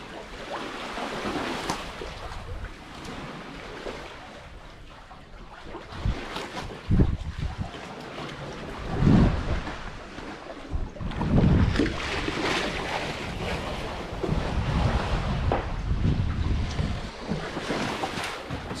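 Steady wind roars and ocean waves wash continuously around a sailboat at sea in eight-knot wind, with wind buffeting the microphone and some louder surges.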